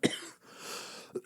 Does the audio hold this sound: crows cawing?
no